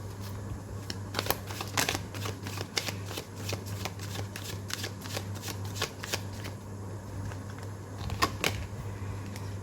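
Tarot cards being shuffled and drawn by hand during a card reading, a steady run of soft riffling clicks and slides close to the ear, with a low constant hum beneath and no talking.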